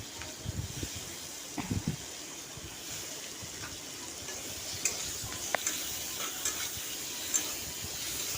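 Spices, including cumin, turmeric, chilli and salt, stirred in a frying pan for mutton curry, giving soft scraping strokes and light clicks over a low steady sizzle, close and fairly quiet.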